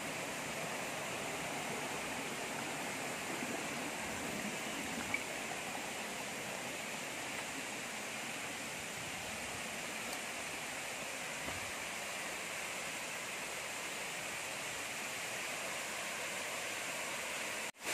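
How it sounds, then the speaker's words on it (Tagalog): A waterfall on a farm lot in Kapalong, Real, Quezon gives off a steady, broad rushing roar that stays even throughout, with no voices over it. "magiging maganda po yung posisyon nitong falls na ito"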